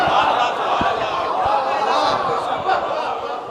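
Many voices at a majlis lift the Nara-e-Haidari slogan in a sustained, loud crowd chant with scattered shouts and a few low thumps underneath.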